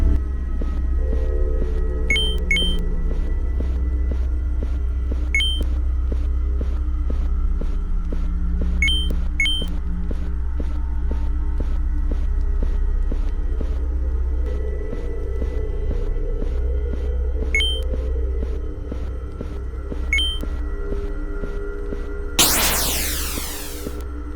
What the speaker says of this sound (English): I also got this scary ambient sound effect that just ties it all together and creates the atmosphere